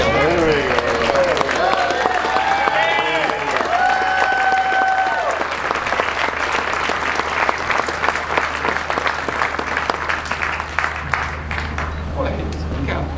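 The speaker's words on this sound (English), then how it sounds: "Boy, you got bigger applause than I did." Loud, sustained crowd applause at a Veterans Day ceremony, with whoops and cheering voices mixed in at first, then steady clapping that continues for over ten seconds.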